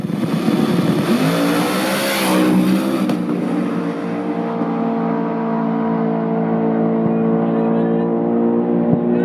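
Chevy and Ford drag race cars at a Wild Street import-versus-domestic final roar and accelerate down the strip, a loud engine scream rising in pitch, then fading into a sustained drone as they pull away.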